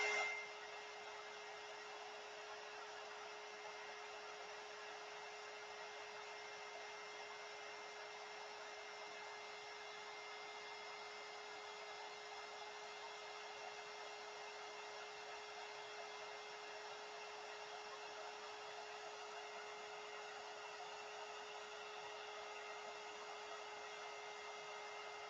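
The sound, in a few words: heat gun melting wax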